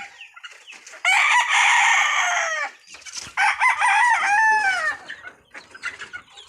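Chickens cluck and crow in a yard, loud and close in two bursts of overlapping calls separated by short pauses, with softer scattered clucks trailing off at the end.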